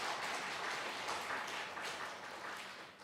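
Applause from a church congregation during a Sunday service, a dense steady clapping that fills the space and slowly fades toward the end.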